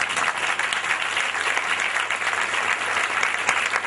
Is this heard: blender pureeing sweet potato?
no